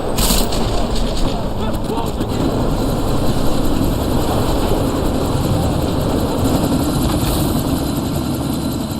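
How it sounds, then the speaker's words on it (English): Military helicopter in the Deus Ex Mankind Divided video game, its steady loud rotor and engine roar running continuously under a windy sandstorm wash, with voices talking over it. "you need to disable that chopper"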